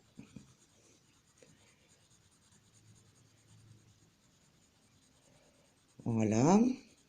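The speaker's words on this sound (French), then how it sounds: "J'appuie un peu plus sur mon crayon." A colored pencil shades across paper with faint, steady scratching strokes, and a voice speaks briefly near the end.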